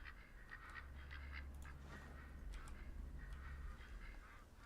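A flock of ducks quacks continuously in the hunting game The Hunter: Call of the Wild, overlapping nasal calls in repeated bursts at moderate distance over a low ambient wind bed, with no talking.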